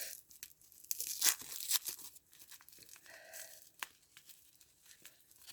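Packing tape ripped off a package in several short, close tearing bursts mixed with crinkling, with quiet gaps between pulls.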